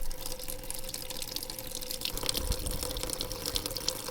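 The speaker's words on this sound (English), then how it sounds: "So we'll drain that down and then we'll see what we find." Diesel drains from a combine harvester's fuel tank into cans, a continuous close splashing, trickling pour with no voices.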